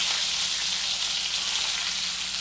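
Curry leaves hit hot oil with dal in the pan, giving a constant bright, hissing sizzle that holds evenly throughout with no voices.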